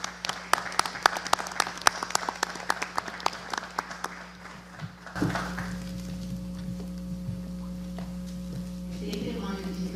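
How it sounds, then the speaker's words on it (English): An audience at a school board meeting for RGCCISD bursts into dense, lively clapping that runs for about five seconds, then stops and leaves a steady room hum with faint murmuring. "Please join us as we applaud people leaders for helping our students soar to success."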